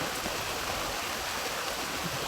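Heavy rain pours down outdoors at dusk, a dense, steady hiss of water with no break in it and no voices.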